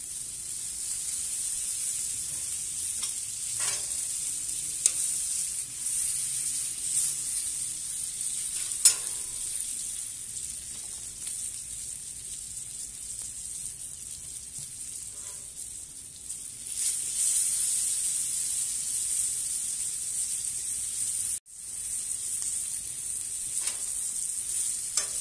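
Beef sears on a Blackstone griddle with a steady, bright sizzle and hiss that holds for the whole stretch, broken by a few faint scrapes and one brief dropout, close and even.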